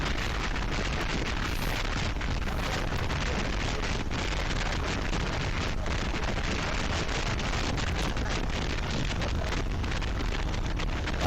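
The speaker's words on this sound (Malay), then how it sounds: "Rasa-rasanya macam nak hujan. Dah sudah mula menitik." Steady wind buffeting outdoors on a ride around Yan, Kedah, with light rain beginning to fall; a constant dense rush of broadband noise runs throughout with no clear voices.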